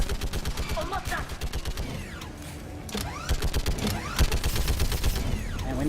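Turret gunfire in the video game Mass Effect 3: rapid bursts of mechanical shots in quick rhythmic volleys, broken by short pauses and whirring sweeps, with speech faintly underneath.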